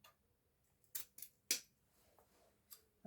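Scissors snip through artificial autumn wreath stems in a few short, sharp, close cuts, with two quick snips followed by a single louder one and a faint later cut over near silence.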